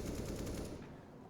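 Rapid automatic gunfire rattles on the Nuke map in Counter-Strike, a dense, loud burst that fades within a second.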